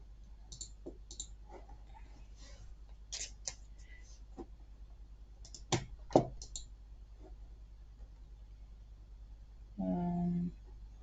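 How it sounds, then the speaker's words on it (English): A deck of cards is shuffled at a desk, giving scattered light clicks and riffling snaps, faint and close, followed by a short buzzy burst near the end. "shuffle the deck"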